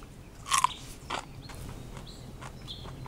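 Someone eats breakfast, giving a couple of close, crisp bites and crunches near the start, then a quieter chew before the sound fades into low room tone.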